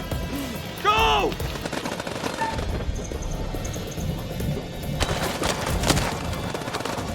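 Gunfire in the horror video game House of Ashes rings out as scattered shots and thuds amid tense combat noise, with shouted voices over the action.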